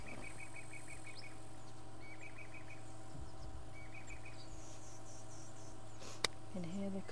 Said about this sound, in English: Can hear the cuckoos calling.